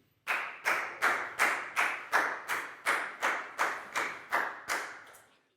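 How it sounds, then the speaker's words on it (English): A small group in a Year 4 maths classroom claps together in a steady, unison rhythm, about eleven evenly spaced sharp claps at close range, fading slightly at the end, with no talking. "Big round of applause for Prel"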